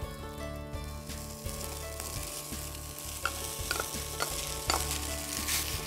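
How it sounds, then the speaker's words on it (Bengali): Vegetables and boiled rice fry in ghee with a steady sizzle, broken by the scrape and knock of stirring utensils, all heard close over a faint background hum. "ঘিয়ের সাথে এখন আমি সমস্ত ভেজিটেবলসগুলো ভেজে নেব"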